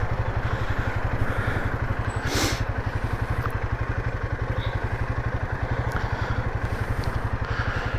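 A Royal Enfield Himalayan 450 rides along the Gosport coast, its engine a steady, close, pulsing throb with faint wind noise and no talking.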